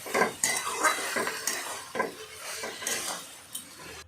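A metal utensil scrapes and clatters against a pan in short, irregular strokes as mola fish with onion and mustard paste is stirred, with a faint sizzle underneath and no voices.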